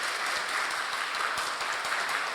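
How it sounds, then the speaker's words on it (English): Applause fills a seminar room at a Hong Kong fashion summit panel discussion for the moderator, a dense, even wash of clapping from many hands at moderate level, steady throughout. "And then another round of applause to our Sunny."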